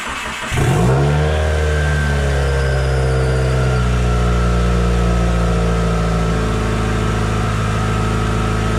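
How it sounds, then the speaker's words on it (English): A Subaru WRX FA20 engine with 105,000 miles, full bolt-ons and E85 fuel fires up and holds a loud, steady idle, with a brief rev right after starting. "So first thing we're going to do is prove that the FA20 runs just fine."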